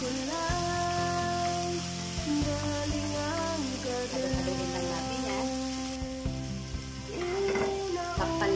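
A generous amount of garlic frying in a pan for pancit bihon sizzles steadily beneath prominent background music.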